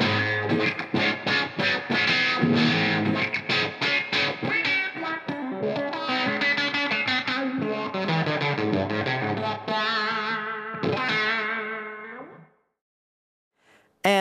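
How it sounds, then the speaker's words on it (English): An electric guitar played clean through a Morley signature wah pedal, notes sweeping in tone as chords and runs ring out, ending in a sustained fade. "And now I'm in wah mode."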